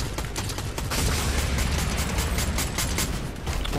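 Rapid gunfire in the video game Fortnite, a dense, loud burst of repeated shots running almost continuously with no talking over it.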